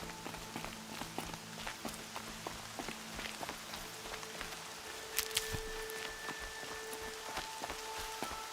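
Steady rain patters across the ground in Horizon Zero Dawn, a dense wash of drops carrying footsteps and occasional sharp clicks, fairly quiet and continuous with no talk.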